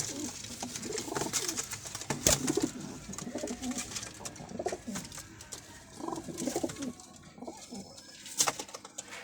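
Pigeons kept in pairs for sale coo softly in repeated low murmurs, with several birds overlapping against a busy background of rustling and occasional sharp knocks.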